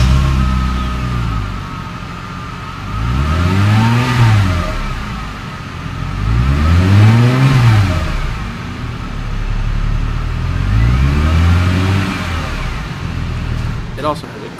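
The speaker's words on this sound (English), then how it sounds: "This car has a perfect-looking engine that runs like a dream. And now you can hear it, too." A 2008 Mercedes-Benz CLK350 engine running, heard close as it idles and then revs up and back down three times in smooth, rising and falling sweeps.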